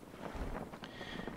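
A sailing raft crosses the open sea in the survival game Stranded Deep, a steady rush of wind and water noise with a brief swell of spray, heard alone.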